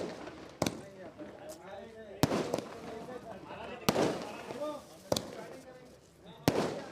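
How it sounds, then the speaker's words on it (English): Fireworks at a league grand final celebration, five sharp bangs spaced about a second apart, each followed by a crackling tail, over a background of voices and crowd chatter. "Fireworks and celebrations."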